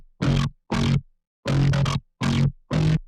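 Dry synth bass patch with no effects applied, sounding much like a bass guitar, playing five short, loud notes in an uneven rhythm, each stopping abruptly, with silence between them.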